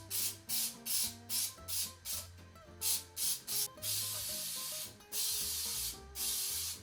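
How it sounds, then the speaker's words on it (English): Grease is sprayed heavily into a bun pan in rapid short bursts, about a dozen close, loud hissing puffs, followed by two longer continuous sprays. "I'm gonna go ahead and heavily grease my bun pan."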